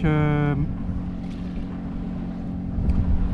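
Sailboat motoring under engine at five knots at sea heading toward Port-Tudy on Groix, a steady low engine drone with wind and water noise; a short tonal sound opens the stretch.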